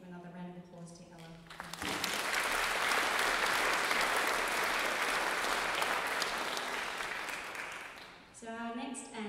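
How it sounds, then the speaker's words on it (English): Concert audience applause for a performer, a sustained wave of clapping that swells and holds for several seconds then fades, with brief talk or music before and after it. "Please give another round of applause to Ella."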